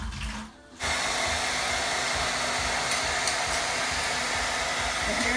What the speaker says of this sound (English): The hair dryer is loosening up the grout and silicone seal around the base of the toilet.